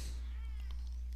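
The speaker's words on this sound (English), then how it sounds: "I have to get my cat because he's throwing a fit." A pet cat meowing indoors, a short, faint cry over a steady low electrical hum, with no talking.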